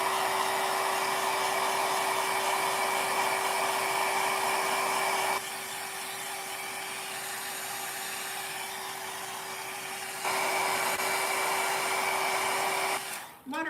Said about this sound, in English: No, it's the end of my Conair curling brush. I use it for my alcohol inks.